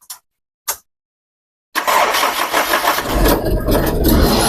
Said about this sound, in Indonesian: Nah, sekali nyalain.